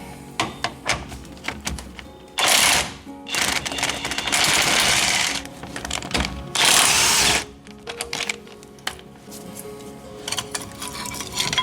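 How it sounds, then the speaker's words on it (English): An impact gun on 18 mm brake bolts of a 1999-2006 Chevy/GMC 1500 4x4 fires in four loud, buzzing rattles of about one to one and a half seconds each, separated by quieter clinks and handling noise. "Let's see if I can get lucky and get my impact gun back here."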